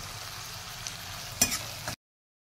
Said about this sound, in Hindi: उसे भूनने के बाद फिर वही मसाले, हल्दी, नमक और धनिया डाल के इसे अच्छे से मिला लूँगी।